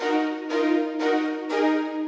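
Lush sustained orchestral minor-triad chords in a steady pulse for a beat, each held about half a second before the next, full and warm with a dark minor color.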